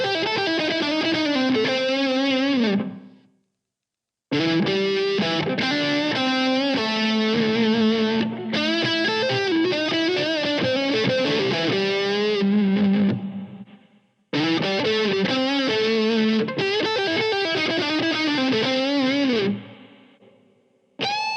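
Electric guitar phrases played through an effects unit in a budget metal guitar rig, with notes ringing out and a reverb tail as each phrase fades, separated by short silences.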